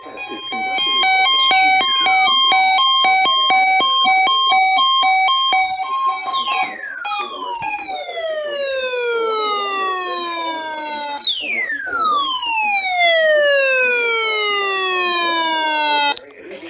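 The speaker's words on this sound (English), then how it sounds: "The warning alarm would have been followed by an actual watch or warning." National Weather Service emergency warning alarm tone from the Atlanta KEC80 weather radio transmitter, a loud continuous electronic tone with repeating sweeping, echoing reverberant overtones lasting the full stretch, with no speech over it.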